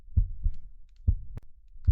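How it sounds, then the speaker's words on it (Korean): Heartbeat sound effect in an audio drama adaptation of Edgar Allan Poe's The Tell-Tale Heart, two deep, close thumping double beats with a pause between them, alone without any voice. "그 심장 박동 소리는 커지고 또 커졌습니다."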